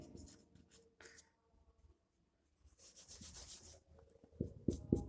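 Marker or chalk scratches and rubs across a classroom board during a physics lecture, faint and intermittent strokes with pauses, and no talk over them.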